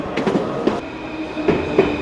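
Rhythmic clickety-clack of train wheels rolling over rail joints, with a steady rumble of the carriage, close and continuous.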